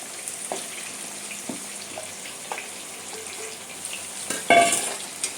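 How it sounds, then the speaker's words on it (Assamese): Onions and tomatoes fry together in a pan for a jackfruit masala, giving a steady soft sizzle broken by a few spoon scrapes and stirring clinks, with one louder clatter near the end. "একেলগে ফ্ৰাই হৈ থাকক পিঁয়াজ আৰু বিলাহীখিনি।"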